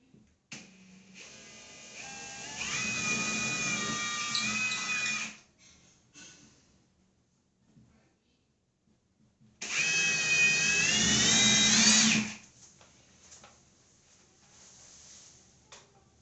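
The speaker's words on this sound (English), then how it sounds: "Now you want to drill the 2 holes. I'm using 3/16 drill bit." A power drill with a 3/16 bit bores two holes into a bathroom wall for a drywall hanger, heard as two separate whining, grinding bursts of a few seconds each with quiet pauses between, close and loud.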